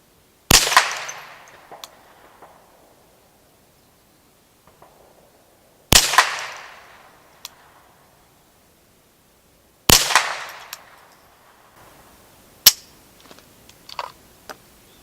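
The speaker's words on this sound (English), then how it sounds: "10 rounds of Federal bulk at 50 yards with my new ER Shaw barrel." Ruger 10/22 rifle fitted with an ER Shaw barrel, firing Federal bulk rimfire ammunition at an outdoor range: three sharp, loud cracks spaced several seconds apart, each with a short decay, followed by faint clicks and handling noises.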